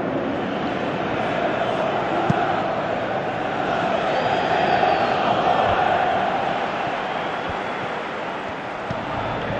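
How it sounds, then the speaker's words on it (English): A large football stadium crowd roars continuously at a Juventus vs Real Madrid match, a dense, loud wash of voices that swells and fades slightly with no single voice standing out. "you can feel and hear how the crowd are reacting to all of this."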